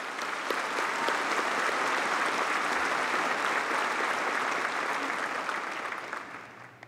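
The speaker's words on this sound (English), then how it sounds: "Let's have a round of applause for this special group of individuals." Audience at a summer graduation ceremony applauding steadily for about seven seconds, a dense, even wash of many hands clapping that fades slightly at the end, with no talk over it.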